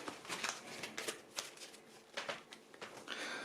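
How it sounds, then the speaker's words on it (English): A deck of black playing cards is shuffled in a quick riffle of rapid papery flutters and snaps that run for a few seconds, close up and fairly quiet, with no talking. "shuffle up the black cards, giving 5 cards to each player"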